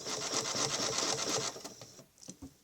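A sewing machine runs fast, stitching a channel in a quilt, a rapid mechanical chatter for about a second and a half before slowing into a few separate clicks and stopping.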